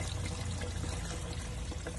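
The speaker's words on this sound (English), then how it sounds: "You just pour it directly down there." Warm, pre-mixed Bio-Safe One septic treatment liquid pours straight down a drain as a steady, close gurgling stream that lasts throughout, with no talking.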